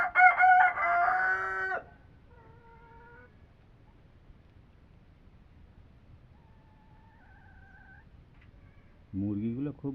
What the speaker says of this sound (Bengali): মুরগিগুলো খুব ইয়ে করছে না, আওয়াজ করছে।